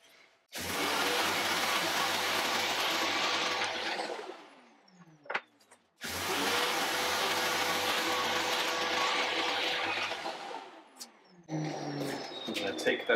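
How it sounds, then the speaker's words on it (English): An electric sander running on its lowest speed sands a wooden charcuterie board with 320-grit paper, a loud steady whir in two long bursts separated by a brief pause, then resuming more unevenly. "I've got my sander on its lowest speed"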